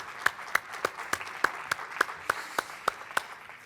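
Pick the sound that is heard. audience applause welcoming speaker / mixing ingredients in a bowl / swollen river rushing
audience applause welcoming speaker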